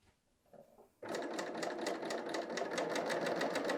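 A Bernina L 890 sewing machine stitches steadily around a woven top's neckline, starting abruptly after a second of quiet handling and then running in a fast, even, continuous whir up close.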